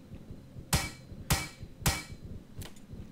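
A hammer strikes a car while a junkyard is looted in the survival video game Plains of Pain: three loud, sharp metallic blows about half a second apart, then a fainter fourth hit, over a low steady background hum.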